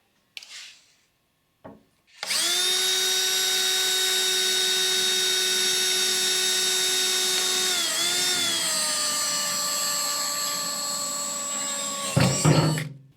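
A power drill whirs steadily into a metal fuel tank for about ten seconds, loud and close, its pitch dipping briefly midway before it stops with a clatter.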